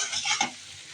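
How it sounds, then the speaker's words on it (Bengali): Spice paste frying in a wok for a prawn and taro dish, a soft close sizzle with a brief scrape of stirring, fading to a low steady crackle. "আর এদিকে মশলাটা কষাচ্ছি মুখের জন্য।"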